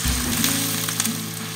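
About a cup of chopped onions fries in hot oil, a dense, loud, continuous close sizzle with a faint hum underneath and no voices.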